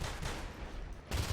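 Shotgun fire during a Natural Selection 2 match: a brief burst of dense, muffled gunfire with a couple of heavier blasts near the end, heard alone without voices.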